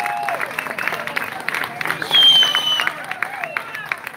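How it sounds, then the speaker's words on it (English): A crowd applauds at a congressional campaign fundraiser in a Torrance hotel, with a steady patter of clapping and some cheering mixed with chatter in the room, swelling briefly partway through. "Round of applause for the producers, please"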